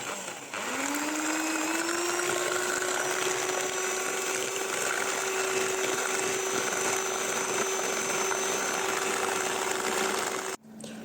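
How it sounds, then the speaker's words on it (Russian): An electric hand mixer whips three eggs with sugar and vanilla sugar, starting with a rising whine and then holding a steady loud drone for about ten seconds before cutting off, with no voices. "Просто взбиваем миксером."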